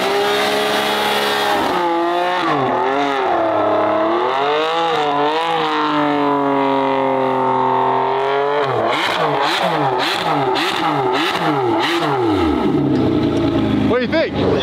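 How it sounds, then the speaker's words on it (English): A car engine revs hard in repeated rising and falling surges, loud and close, with sharp throttle blips toward the end. "This car stock sounds better than Dave's car stock."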